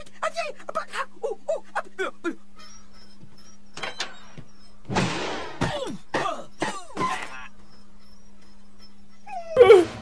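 Dog whimpering and yipping from the Breath of Fire video game, a run of short whines and cough-like yelps with a steady background hum, later followed by a few louder cries.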